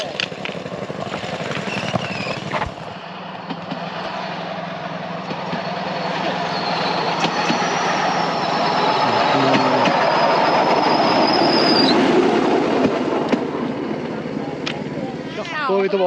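A Cambodian bamboo train rumbles steadily along rails with rattling wheels and a thin metallic squeal, people talking nearby over the continuous clatter.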